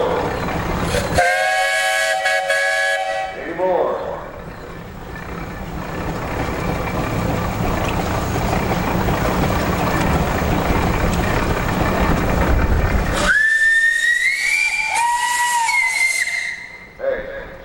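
A steam traction engine's whistle at a threshers' steam show in Wauseon, Ohio, sounds in two long, loud blasts at either end, with hissing steam and the engine's steady churn between them and a brief spoken question.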